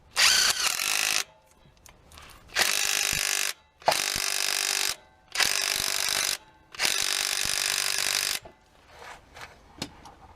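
A battery impact gun set to maximum hammers at bolts on a Nissan Qashqai J11 during a timing belt job, firing in four loud sustained bursts with short pauses between, close up and without talk.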